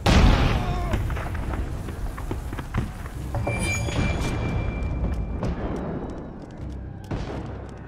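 Cannon fire in Assassin's Creed Revelations, a dense battle mix of repeated booms and gunfire-like bursts rolling over a continuous low rumble throughout, fairly loud with no clear pauses.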